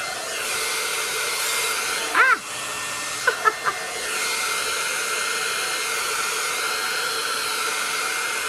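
A BaBylissPRO rotating hot air brush running on high while drying hair gives a steady, loud, close blowing roar throughout. A short voiced exclamation and a few small clicks briefly rise above it.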